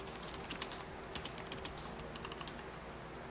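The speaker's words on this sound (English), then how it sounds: "Now he's going to type in his password." Computer keyboard keys tapped in a short burst of soft clicks while a password is entered, quiet and close over a low steady room hum.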